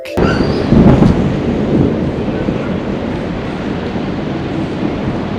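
Heavy thunder rumbles through a violent all-night thunderstorm in Spain, with a loud, broad roll that swells near the start and then holds as a steady, dense roar with rain-like hiss throughout and no speech.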